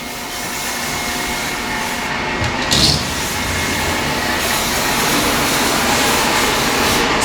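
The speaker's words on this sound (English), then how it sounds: "Okay, I got the vacuum going" A household vacuum cleaner runs steadily and loudly throughout, a continuous broadband whine and roar with no talk over it.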